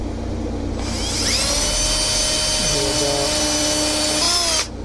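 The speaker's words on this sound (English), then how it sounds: "Now I don't want to drill all the way because I don't want the screw to strip out in there" A power drill runs continuously under load while driving a screw into pallet wood, its motor whine rising and settling for about four seconds before stopping abruptly.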